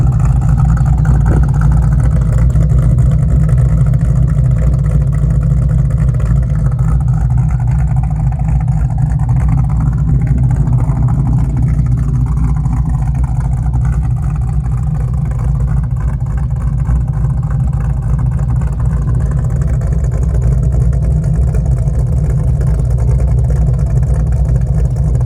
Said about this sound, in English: Blueprint Engine's 347 stroker motor has just enough lope to the idle to let you know that it means business